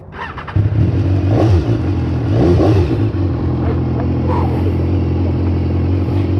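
A 2015 BMW S1000R motorcycle engine cranks and catches, then settles into a loud, close idle with a couple of sharp revs rising and falling before it holds steady.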